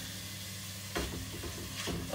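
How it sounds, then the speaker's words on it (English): Meat browning in a frying pan for Finnish Karelian hotpot gives a steady close sizzle, with a brief louder burst of crackle partway through as the pieces are stirred or turned. "we're almost there with our meat. Once I've finished browning that, we'll just do the meat"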